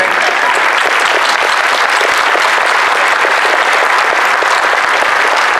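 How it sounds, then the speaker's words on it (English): Loud, steady audience applause at a festival opening ceremony, dense clapping sustained evenly throughout. "a round of applause for these folks"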